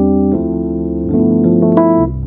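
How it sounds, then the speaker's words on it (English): A Rhodes Mark I electric piano plays a few sustained, bell-like chords, close and loud, with no voices. "So, Rhodes came out with the Mark I, which sounds like this."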